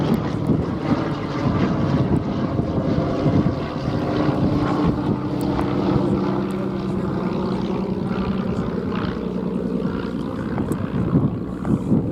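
A de Havilland DH-9 propeller biplane flies at an airshow, its engine a steady, throbbing drone with wind rumble over the microphone, a voice talking over it throughout.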